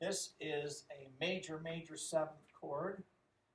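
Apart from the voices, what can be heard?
No everyday noise stands out behind the speech.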